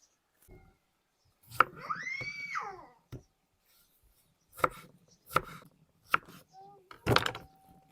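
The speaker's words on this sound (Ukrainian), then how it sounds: "ми нарізаємо перець і помідори" Knife chopping peppers and scalded tomatoes on a board, a series of sharp separate cuts spaced irregularly, close and moderately loud, with a brief squeaky vocal sound and faint murmuring between them.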